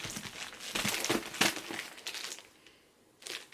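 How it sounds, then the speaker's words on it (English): Crinkly rustling of paper wrapping as gift-wrapped books are shuffled and rubbed against each other, close by and continuous, easing off near the end. "Shuffle my books up."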